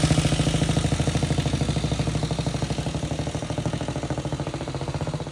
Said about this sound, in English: Moto filmer on his first flat tank experience, the Model 18 Norton, 1927.